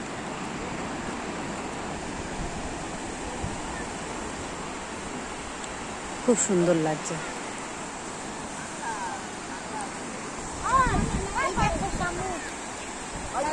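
Sea waves wash onto the beach at Digha in a steady, broad roar, with a couple of louder surges breaking through; people talk over the surf and footsteps along the shore are implied.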